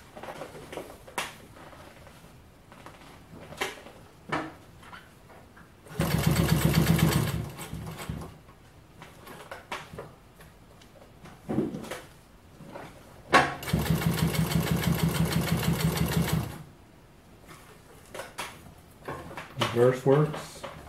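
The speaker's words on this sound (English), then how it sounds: "I'm going to sew 12-ounce denim in 3 layers." A Rex 26-188 walking foot industrial sewing machine (Nakajima TDU-N62) stitches three layers of 12-ounce denim in two loud, steady bursts of a few seconds each, with talk and handling noises in between.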